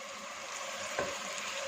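Salt and chili powder sizzling in a pan of green beans and potatoes over medium-low heat, with a steady low frying hiss and a single brief spoon scrape partway through.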